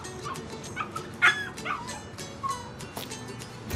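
A dog whimpers and cries in short, high-pitched whines and yips, heard at a modest distance over background noise.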